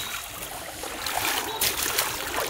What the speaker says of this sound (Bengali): খুবই যত্ন সহকারে গাড়িটা ধুইতেছে।